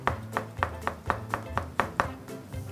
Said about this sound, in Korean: 소세지 최대한 얇게 쓰셔야 돼.